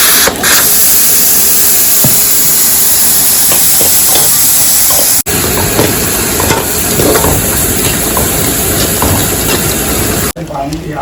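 Steam hisses loudly and steadily from a cooker while cooking chicken curry. The release is close and continuous, broken by two brief cuts, and a voice speaks faintly beneath it.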